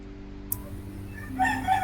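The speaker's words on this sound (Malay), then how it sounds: "Bunyi ayam rumah kamu." A rooster crows near a home, a loud harmonic call rising at the end after a quiet stretch, with no talk over it.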